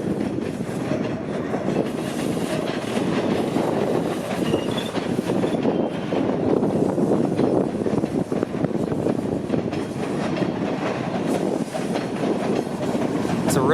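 A subway train rumbles and clatters steadily through a station on Warden Avenue, Scarborough, Toronto, loud and close, with a faint squeal of wheels now and then.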